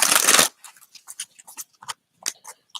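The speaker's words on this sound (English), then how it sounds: "Let me shuffle over here." A brisk riffle of oracle cards being shuffled, followed by a series of light taps and soft flicks as the cards are handled.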